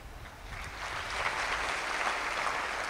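Audience applause in a hall during a motivational talk by a retired IPS officer: a dense, steady wash of clapping from many hands, fairly loud and continuous for the whole stretch, with no voices over it.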